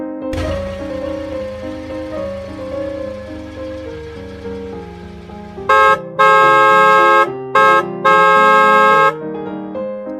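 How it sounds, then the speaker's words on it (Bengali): A cartoon car horn honks repeatedly, first a melodic series of tooting notes over a low hum, then several loud, blaring blasts in quick succession, close and insistent. "এতবার গাড়ির হর্ন দিচ্ছি, তাও রাস্তা ছাড়ছেন না।"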